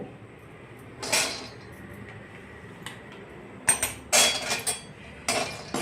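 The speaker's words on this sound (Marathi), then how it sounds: "आता आपण काजू भाजून घेऊ" Cashews roasting in a pan, with scattered metallic clinks and scrapes of a utensil against the pan at irregular intervals, several in quick succession near the end, over a quiet background with no talking.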